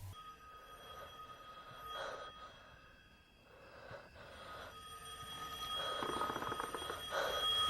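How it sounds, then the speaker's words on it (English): A telephone rings repeatedly in a film scene from Monster House, a moderate bell-like trill recurring in bursts over a low background, with no speech. "he is woken up by the phone, where the call is strangely coming from Mr. Nevercracker's house."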